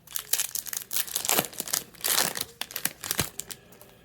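A Yu-Gi-Oh Phantom Rage booster pack is torn open and handled close up, a series of crinkling foil rustles and short tearing bursts in an irregular rhythm, with no talking.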